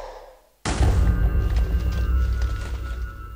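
After a moment of near silence, a sudden loud Minecraft creeper explosion bursts in and its deep rumbling roar carries on to the end.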